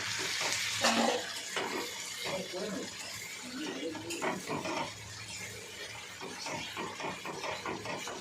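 Koi fish masala frying in a pan, a soft, fairly faint sizzle with scraping stirring strokes beneath intermittent speech.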